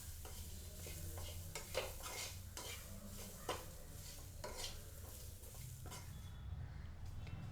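A spoon stirs grated coconut into masala in a pan, scraping and clinking steadily over a soft sizzle, close and moderately loud with no talk, while preparing an egg kulambu.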